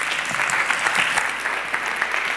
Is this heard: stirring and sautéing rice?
no